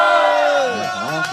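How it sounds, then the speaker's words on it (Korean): A crowd at a candlelight rally in Seongju against THAAD deployment raises a loud, sustained collective shout that sweeps in pitch. The voices are massed and close, with applause and a wavering cheer close behind. "여러분들 힘찬 함성과 박수로 시작하도록 하겠습니다"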